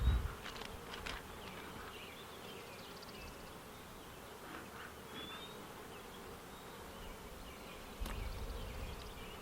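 Honey bees buzz steadily at an open hive while the comb is being worked, a continuous close insect drone with brief knocks and a louder burst near the end.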